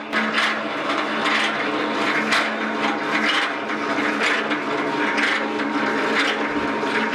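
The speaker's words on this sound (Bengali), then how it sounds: "সরিষার তেল একবারেই কিন্তু ফাইনাল হয়ে যাবে আমাদের এই মেশিন দিয়ে।" A mustard oil expeller machine runs with its motor cover open during a trial, producing a steady, loud grinding and whirring drone that continues unbroken throughout.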